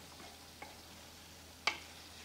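Ridge gourd frying in a pan gives a faint, steady low sizzle close by, with two small clicks from stirring or utensils partway through.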